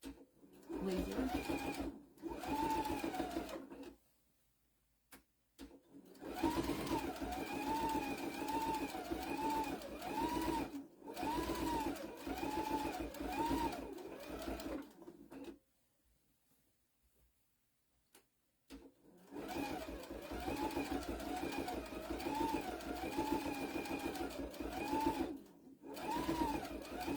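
A sewing machine top stitching a tea towel runs in three long steady stretches of rapid rhythmic clatter, with short pauses and a near-silent gap between runs.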